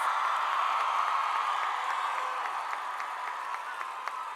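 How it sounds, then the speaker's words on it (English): Steady applause from a Power Shift 2007 conference crowd for Nancy Pelosi, a continuous wash of clapping at moderate distance with no pauses. "Can I get a round of applause?"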